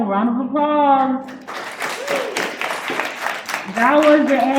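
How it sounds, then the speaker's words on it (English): At an elementary school spelling bee, a burst of audience clapping rises for a couple of seconds between stretches of a person speaking, which bracket it at the start and end. "All right, round of applause."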